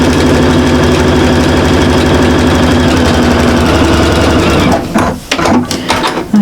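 A sewing machine top stitches a shopper bag with iron-on foam wadding, running in a loud, steady mechanical rattle for several seconds before stopping, followed by a few softer handling noises.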